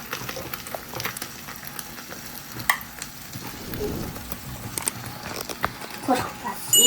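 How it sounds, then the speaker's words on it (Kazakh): Pasta crackles and sizzles in a hot pan with occasional stirring scrapes, while voices talk over the frying. "Қуырылып жатыр."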